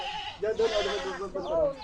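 A goat bleats in wavering, tremulous calls, two bleats close by at a Filipino family's home, with people talking nearby.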